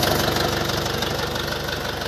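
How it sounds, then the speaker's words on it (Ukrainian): A Scout 404 mini tractor with wide tyres and a compressor sits with its engine idling, giving a steady, close, rhythmic diesel knock and rumble with no pauses or voices. "Є в продажу такі тракторці, це Scout 404, він іде вже на широкій резині."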